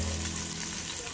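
Ginger frying in oil in a pan, a dense, steady sizzle heard close up, with a low hum underneath and no talking.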